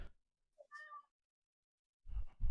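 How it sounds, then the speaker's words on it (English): A cat gives a short yowling meow, a brief tonal cry with a faint squeak just before it, set in near silence and followed by bursts of louder noise. "I hear some yowling."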